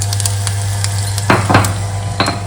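Mustard seeds, garlic, chili and turmeric temper in hot oil with a steady crackling sizzle, broken by a few sharp clinks and scrapes of a utensil stirring in the pan, alone without voices.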